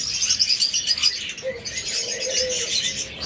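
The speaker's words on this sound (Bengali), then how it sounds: "ককাটেল পাখি।" Cockatiels, an established breeding pair kept with a clutch of five eggs, give thin high chirps and calls in a steady scattered stream at moderate distance, with no talk over them.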